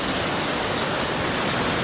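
Heavy rain from an outdoor rainstorm falls steadily on a paddock, a dense, even hiss filling the air without pause or voices.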